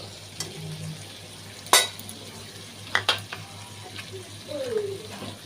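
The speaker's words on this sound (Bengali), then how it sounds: "তার মধ্যে আদা কুচি" Chopped ginger frying in a pan, a soft steady sizzle with a few sharp clinks of a utensil against the pan.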